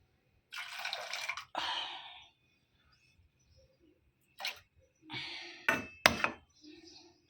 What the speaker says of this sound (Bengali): অনেকটা চা হয়ে গেছে, এটা বিকেলে হয়ে যাবে, ঢেলে রাখি।